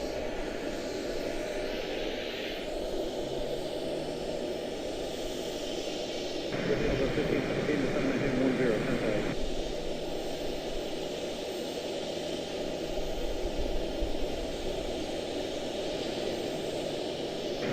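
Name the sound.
Boeing 737 jet aircraft engine at airport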